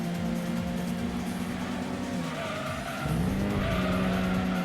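A car in Gran Turismo 2 slides with sustained tire squeal over a loud engine drone, the squeal bending in pitch as the slide shifts, continuous and up close.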